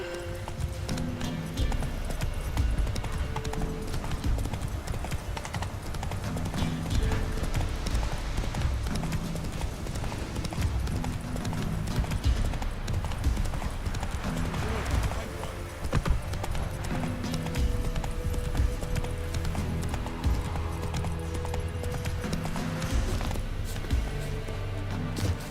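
Horse galloping in the Witcher 3 video game, a fast steady clip-clop of hooves running continuously and loud under game music, with an occasional snort.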